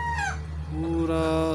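Chickens at a village hen farm cluck and crow, including a rising rooster call, over a steady low hum while someone talks throughout.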